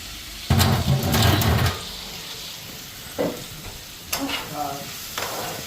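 Fish frying in a pan gives a loud burst of sizzling and stirring near the start, then quieter crackles with a few short scraping spurts near the end.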